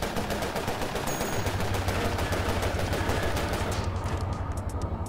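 Continuous rapid gunfire in the video game Cortex Command, loud and close, with overlapping automatic bursts, a low steady hum underneath and occasional high electronic tones.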